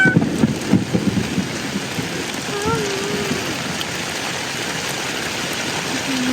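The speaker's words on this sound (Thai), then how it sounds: "ว้ายฟ้าแลบฝนตกแรงมากว้า" Heavy rain pours steadily at a tent campsite in Chaom, Saraburi, Thailand, with a low rumble of thunder rolling underneath, dense and continuous.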